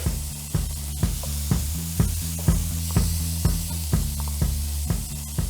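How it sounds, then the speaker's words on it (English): Bacon frying in a hot pan gives a loud, steady sizzle with a broad hiss. Regular pulsing thumps at about two per second sit under it, and there is no speech. "what we're going to do first is heat up our pan, and once it's hot enough, we're going to add all of our bacon in"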